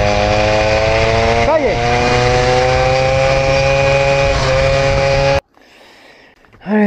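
A small scooter engine with a filed exhaust port roars loudly at high, steady revs with harmonic whine, dips briefly mid-run, then cuts off abruptly near the end; a voice speaks briefly.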